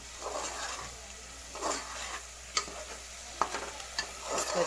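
Masala frying in oil in a pan for an egg and flower recipe, stirred with soft scraping and faint sizzle, a few sharp clicks of the spoon against the pan, quiet and close.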